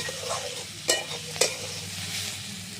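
Soybean chunks and vegetables fry in a pan with a steady soft sizzle, broken by two sharp clatters of a spatula stirring against the pan.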